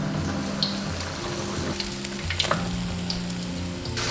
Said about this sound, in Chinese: 全程一定要是这种中小火慢炸